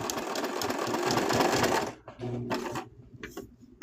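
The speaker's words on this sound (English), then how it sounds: "So I hold it in place with my finger, and I just keep on sewing" A sewing machine stitches a small plush toy, a rapid close mechanical whir for about two seconds, then short start-stop bursts as the fabric is repositioned.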